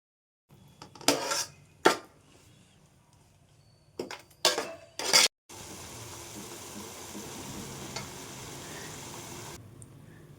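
Onion paste with turmeric and salt stirred in a pan for an Andhra fish curry, a few sharp scraping clanks of a spoon on metal, then a steady soft frying hiss.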